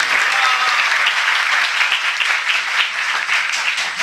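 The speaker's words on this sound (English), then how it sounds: "So let us give an applause for the team." An audience at a devotional talk gives a team steady, dense applause that fills the room for the full four seconds, with no let-up and no voices rising above it.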